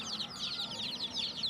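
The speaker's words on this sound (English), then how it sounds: "Newly born chicks are sitting together and talking to themselves" Newly hatched chicks cheep and chirp continuously in a soft, rapid, high-pitched chorus, close and fairly faint.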